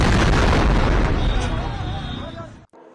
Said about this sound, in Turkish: Patlamanın sesi başkentin birçok noktasından da duyuldu.